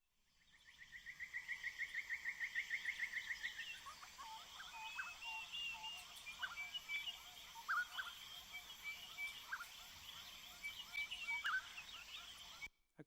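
An orchestrated recording built from the sounds of 2,000 birds: quiet chirps, calls and gobble-like notes repeat and overlap over a faint hissing background, with a brief rising chorus of calls near the start.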